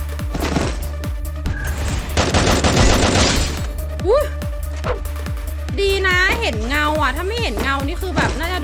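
Bursts of gunfire in the battle-royale video game Free Fire, rapid repeated shots in rattling volleys over a steady game soundtrack, with a player talking excitedly throughout.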